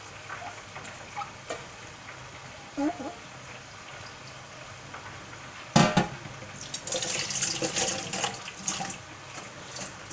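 Dishes are washed under a running kitchen tap: light clatters and splashes, then the water gushes on loudly and keeps running through the last few seconds, with someone talking at moments.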